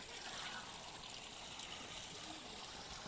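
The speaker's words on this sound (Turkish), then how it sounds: "kaynaktan gelen su ve gölet" Spring water runs steadily into a pond at Gökpınar near Gürün, Sivas, a faint continuous trickling and rushing wash with no break across the whole stretch.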